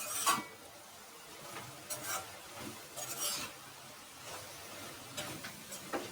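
Chili powder is stirred into a frying bean curry, a faint sizzle under intermittent scraping and clacking strokes of a spoon against the pan.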